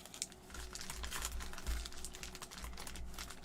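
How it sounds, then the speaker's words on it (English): A fresh box of trading card booster packs being shuffled by hand, crinkly foil rustling and soft tapping in quick uneven bursts, close and quiet with no talking. "Just gonna shuffle these packs up since this is a brand new box."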